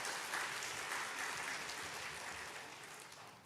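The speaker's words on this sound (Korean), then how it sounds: "하나님께 영광의 박수 돌리겠습니다." A church congregation at a Sunday service claps together in praise, a soft, dense, even patter of many hands heard from a distance, fading slightly toward the end.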